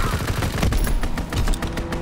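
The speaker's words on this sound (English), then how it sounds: "Fighter pilot inbound, strafing the target." Fighter plane strafing run in Call of Duty WWII team deathmatch on a flak tower map, dense rapid gunfire rattling continuously and loudly with a rumbling low end, close and without talk.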